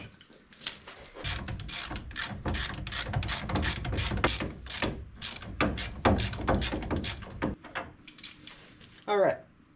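Ratcheting wrench work tightening the front suspension bolts on a 2008 Ford Escape, tie rod, strut and ball joint, during a wheel bearing job: rapid repeated clicks in close bursts with metallic handling, and a voice briefly at the end.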